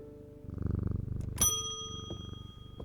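A cat purrs in a video game, a close, steady rhythmic rumble, joined by a bright bell-like chime ringing out midway.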